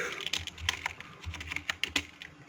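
Quick, irregular clatter of computer keyboard keys as a C++ code comment is typed, close and clear, in uneven bursts over a low background hum, with no voice.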